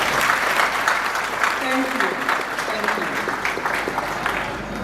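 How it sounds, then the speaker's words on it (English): An audience applauds at the 10th anniversary ceremony for the late Dr. Obeng Snr, a dense and steady wash of many clapping hands, while a voice speaks briefly over it. "I thought you were going to clap for His Excellency."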